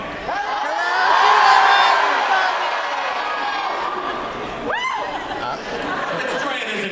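Convention hall crowd at a Comic-Con television panel calling out hello together, a broad swell of many voices with chatter and laughter that peaks early then settles into a steady murmur.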